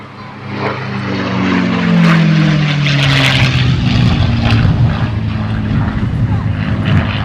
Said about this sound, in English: P51 Mustang in for its first run